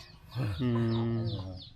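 Chickens cluck in a rural Thai yard, one bird giving a drawn-out, close, loud call that fills most of the moment.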